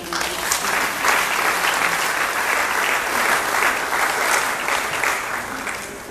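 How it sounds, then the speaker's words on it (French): An audience at a Kinshasa Miss 2019 charity event bursts into steady applause, a thick wash of many hands clapping continuously for about six seconds without letup. "Alors applaudissez pour vous."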